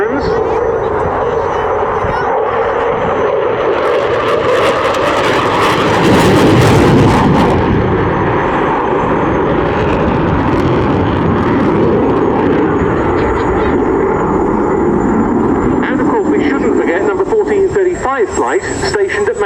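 Eurofighter Typhoon jet flying at the RAF Cosford Airshow, a loud continuous engine roar that swells in the middle, with a commentator talking over it throughout.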